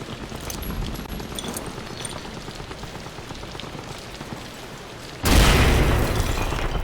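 A hand grenade bursts in Amnesia: The Bunker as a sudden, loud broadband blast near the end. It breaks a long stretch of quieter, rain-like crackling hiss and leaves a lingering roar.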